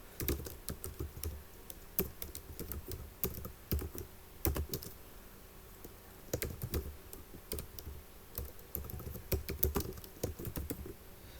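Close, quiet computer keyboard typing as code comments are entered, irregular bursts of sharp key clicks with short pauses between runs.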